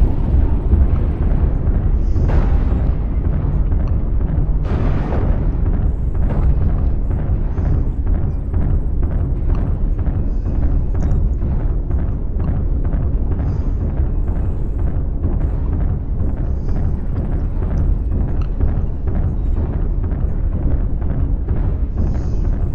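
Medium artillery shells from a video game set in a sandbox mode burst close by in a continuous heavy rumble, with sharper blasts standing out near the start amid a loud, dense roar of explosions.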